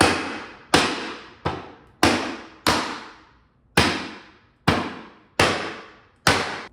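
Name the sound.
hammering wooden bookshelf panels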